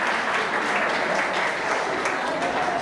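A crowd applauds a teacher at an English club closing day in Mboro, steady dense clapping that fills the whole stretch without pause.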